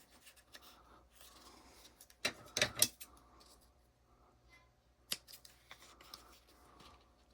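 Scissors cutting fabric for a wallet, a few sharp snips clustered together followed by a lone later snip, with soft rustling of cloth between, close and quiet.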